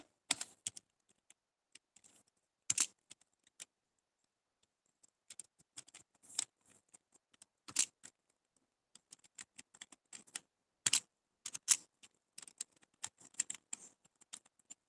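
Data being typed on a computer keyboard while working in MS Excel: quiet, scattered keystrokes in uneven bursts with pauses between them, close and alone without talk.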